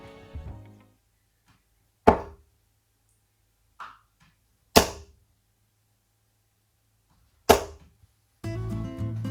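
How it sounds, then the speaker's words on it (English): Darts strike a dartboard with no Wispa sound dampener fitted, three sharp, loud thuds spaced a few seconds apart with a fainter knock between, set against near silence. "So this is the dartboard without the Wispa installed."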